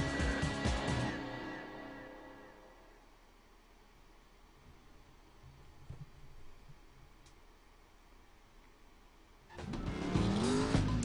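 A car driving in the video game Driver San Francisco: steady engine and road noise that fades to a quiet stretch, then a loud burst of engine and tire squeal near the end.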